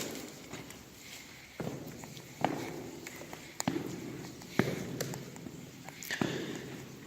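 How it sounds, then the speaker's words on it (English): Footsteps crunch over rocks along the flooded edge of an abandoned train tunnel cut through a mountain, each step ringing with a strong echo, with irregular paced steps under a faint background hum. "Every footstep you make in here, it echoes like crazy through this thing."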